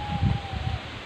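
Wind rustles through bamboo in a rural province, a soft, steady close-up rustle with low gusty rumble beneath and a thin tone running throughout, no speech.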